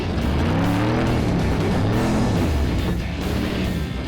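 Cadillac accelerating hard at full throttle, a loud, close engine roar whose rising and falling harmonic bands show revs climbing through gears, steady and dominant with no talking.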